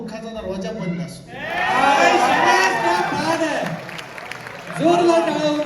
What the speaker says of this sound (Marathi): जोरदार टाळ्या होऊन राहिल्या आपल्या मित्रासाठी